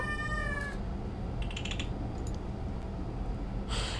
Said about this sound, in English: That scared me, the cat sound.